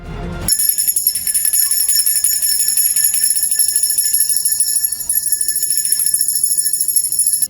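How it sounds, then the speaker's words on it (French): A loud, high-pitched bell rings continuously and steadily for several seconds, piercing and close, with no voices over it. "Le point faible de Venom est le son fort à haute fréquence, comme le son d'une cloche"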